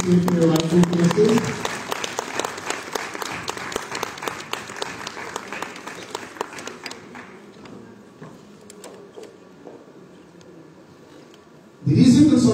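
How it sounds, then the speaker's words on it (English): Loud applause from a crowd at a school launch event, dense clapping that gradually thins and fades toward quieter murmuring, then a burst of voices near the end. "A round of applause as our eminent dignitaries take their rightful places."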